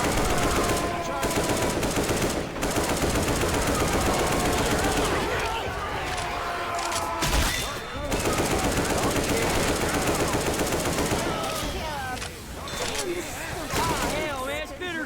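Nonstop heavy gunfire from the video game Left 4 Dead 2 during a modded survival round at the Dark Carnival stadium gate, dense automatic bursts layered with game effects, loud and continuous throughout.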